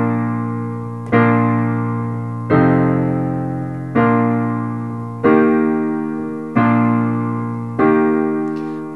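Piano sounds six sustained block chords of Silent Night, each struck cleanly about every 1.3 seconds and left ringing, at close range with no voice.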